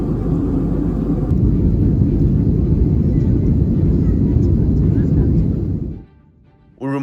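Inside a passenger plane on a roughly two-hour flight from Kashgar to Urumqi, a loud, steady low engine and cabin roar fills the air before dropping away sharply near the end.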